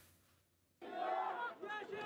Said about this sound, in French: Une foule compacte qui participe aux obsèques du petit Ali cet après-midi.